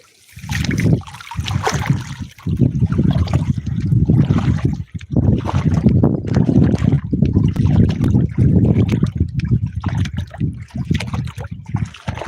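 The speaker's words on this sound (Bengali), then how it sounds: "পানির ভিতর দিয়ে যাইতেছি" A person wades through deep floodwater after heavy monsoon rain, loud close sloshing and splashing that comes in repeated surges with brief pauses between strides.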